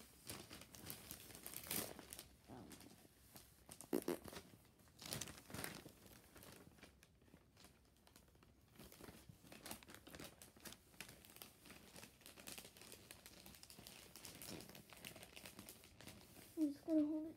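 Wrapping paper being folded around a present, with soft crinkles and rustles coming in short bursts, mostly faint and close, under a person talking.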